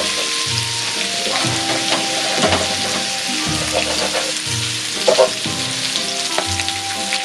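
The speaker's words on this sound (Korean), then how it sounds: "그럼 짱구에서 나온 것처럼 고기를 먼저 올려줍시다." Meat sizzles loudly and steadily in a hot pan for stir-fried noodles, a dense close crackle with scraping and stirring knocks from a spatula cutting and moving the food, and no talking.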